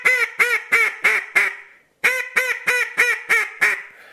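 A Haydel duck call blown in a run of quacks with the reed jabbed then slid slow: five sharp, close raspy quacks, a brief pause, then six more at a steady rhythm, no talking.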